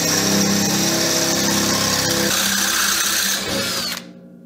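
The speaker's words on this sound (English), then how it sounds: "Then I'll follow that up with a 5/16 inch drill bit." A power drill with a 5/16 inch bit runs at full speed with a loud, steady whine and grinding undertone, then cuts off abruptly.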